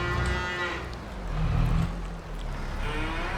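Cattle out on grass moo in long, drawn-out calls, one swelling loudly in the middle, with other lowing nearby and a low engine-like rumble beneath.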